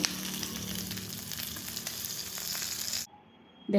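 Paneer fry sizzles steadily and loudly in a pan for about three seconds, then cuts off abruptly to near silence.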